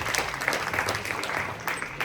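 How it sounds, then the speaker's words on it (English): Audience at a panel discussion applauding a panelist, a steady wash of clapping hands that holds evenly throughout. "Big round of applause for our last panelist here."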